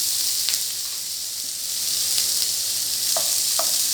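Garlic and ginger sauté in a pan with oil for a restaurant-style soya chunks gravy, giving a steady bright sizzle throughout with a few soft stirring clinks, no talking.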